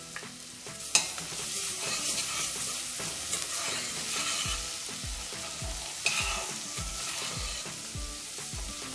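Garlic and ginger paste sizzles with onions in a pan over a constant frying crackle. A spoon scrapes and stirs in a quickening run of regular strokes, with a few sharper knocks.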